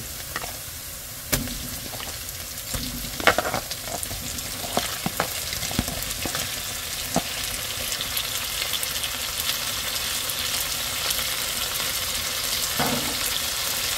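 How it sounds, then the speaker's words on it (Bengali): Turmeric-coated prawns fry in hot oil with a continuous close sizzle, broken by scattered clicks and scrapes of stirring, and no voices. "চিংড়ি মাছটা হালকা একটু এই তেলে ভেজে নিব।"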